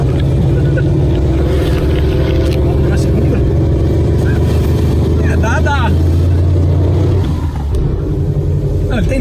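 Steady engine drone and low rumble from a VW Gol while driving, close and loud throughout with a constant hum of road noise; people talk briefly over it.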